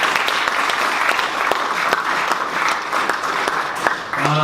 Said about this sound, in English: a round of applause for all the volunteers